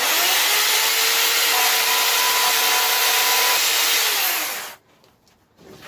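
Steady, even light sanding of wooden tenons, a continuous scratchy rasp that runs for several seconds and then cuts off, leaving near silence.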